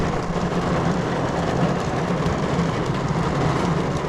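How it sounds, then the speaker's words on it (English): A thunderstorm brings heavy rain that pours as a dense, steady roar close by, with a low rumbling undertone. No voices. "This is a full-on T-storm."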